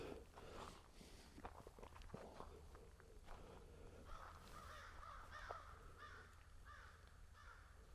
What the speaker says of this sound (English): Lots of crow out today.